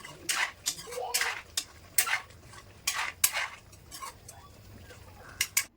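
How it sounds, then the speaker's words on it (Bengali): Meat and fried potato pieces being stirred and scraped in a metal pot, a close, irregular run of spoon-on-metal scrapes and clinks with light background noise. "আর এখন আমি মাংসর আলুটা ভালো করে একটু কষিয়ে নেব।"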